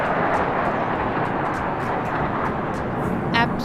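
Indian Air Force aircraft fly at a Republic Day air show, a broad, steady jet roar in the distance heard beneath crowd noise and faint other sounds.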